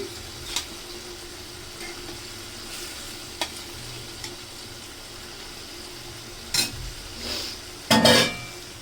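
Tilapia fish with bean seeds frying in a pan in a Bangladeshi home kitchen, a low steady sizzle broken by a few sharp utensil clinks and a louder scraping burst near the end.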